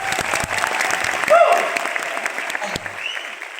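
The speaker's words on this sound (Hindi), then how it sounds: "एक बार दोबारा तालियां बजाइए।" An audience at a trading seminar bursts into brisk applause, dense clapping that peaks then tapers over a few seconds, with a voice speaking over it.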